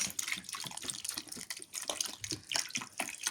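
Water poured over grapes in a pot, a busy broadband splashing and trickling with irregular bursts and gurgles, close and fairly loud, running steadily throughout with no voices.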